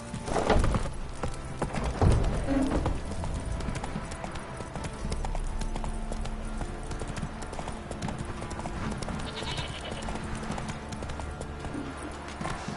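Roach, a horse in the video game The Witcher 3: Wild Hunt, galloping with rapid rhythmic hoofbeats on the ground, loud and continuous, with brief vocal sounds near the start.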